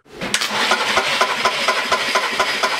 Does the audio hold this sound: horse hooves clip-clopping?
no